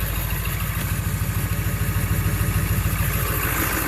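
A Ford 7.3 diesel in a Super Duty truck running at high idle: a steady, loud, even clatter with a rapid regular pulse throughout, no voices.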